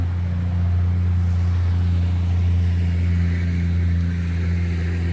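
Steady engine drone of traffic on a highway running right beside a dragon fruit farm, loud and continuous with a low hum and passing vehicle swell, no talking.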